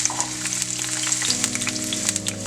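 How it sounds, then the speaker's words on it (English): Half an onion, garlic cloves and serrano chiles sauteing in hot cooking oil: a steady, close sizzle and crackle with small pops, plus a low hum from the stove beneath it. "you add the cooking oil. We're gonna saute the ingredients."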